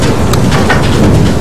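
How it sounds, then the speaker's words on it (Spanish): Heavy rain in the video game Far Lone Sails, a loud, dense, steady hiss of downpour filling the whole moment with no breaks. "Uy, está lloviendo fuerte."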